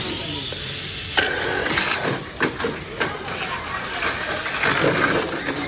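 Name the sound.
electric motor of RC car running on test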